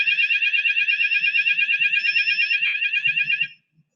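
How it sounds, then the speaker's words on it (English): A fire alarm sounds during an in-panel fire suppression system demonstration, a loud rapid pulsing electronic tone that continues steadily for over three seconds before cutting off abruptly. "why don't you stop the alarm?"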